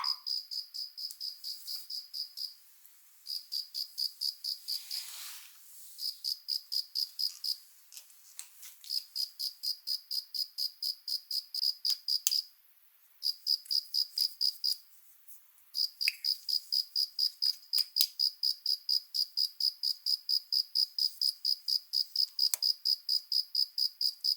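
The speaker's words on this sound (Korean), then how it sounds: "이번에는 귀뚜라미 울음소리가 들려옵니다." A house cricket chirps in fast, steady pulsing trills, close and clear in a quiet kitchen, pausing briefly a few times before resuming.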